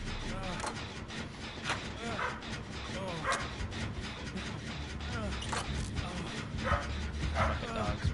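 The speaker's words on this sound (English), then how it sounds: "Fucking dogs, man." Dogs bark repeatedly in Dead by Daylight, loud yips and bow-wows scattered through a dense, noisy game backdrop with constant ambient rumble, while a person talks over much of it.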